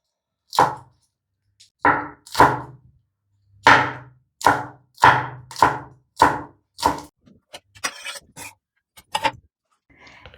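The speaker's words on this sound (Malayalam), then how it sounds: "പച്ചമുളകും ഈ ഇഞ്ചി അരിഞ്ഞ പോലെ തന്നെ ചെറുതായിട്ട് അരിയണം" A knife finely chops green chillies on a cutting board for Onam sadhya injikkari, with about a dozen sharp, close, separate chops at an uneven pace and short silent gaps between them.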